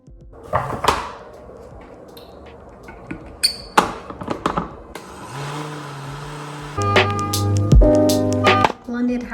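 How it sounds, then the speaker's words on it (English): A blender whirs through black beans in a home kitchen while cooking Haitian bean sauce, its steady motor hum starting partway through after clattering and handling noises, close and fairly loud. "So I'm going to blend that."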